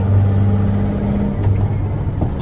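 A Euro KamAZ 6x6 truck engine rumbles steadily while driving, a low continuous drone heard from close by with a slight dip in pitch midway.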